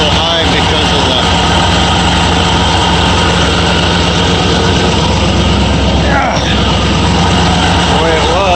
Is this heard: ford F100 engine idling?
yes